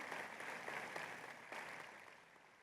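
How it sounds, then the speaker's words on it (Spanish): Applause from a church congregation at a Spanish-language service, a steady broadband wash of clapping that holds fairly even throughout, moderately distant and with no talking over it. "Ese aplauso que sea para Cristo."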